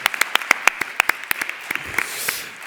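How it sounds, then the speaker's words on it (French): Audience at a scientific society's closing session in Montpellier applauding, a sparse scatter of distinct, fairly close hand claps that gradually thin out and give way to a softer, fading patter. "On peut l'applaudir."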